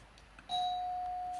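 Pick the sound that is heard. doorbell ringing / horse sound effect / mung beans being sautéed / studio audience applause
doorbell ringing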